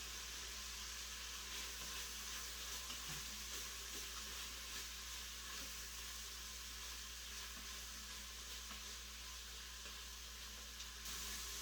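Bacon renders its fat in a hot pan, giving a steady, faint, even hiss of sizzling that holds unchanged throughout with no talk.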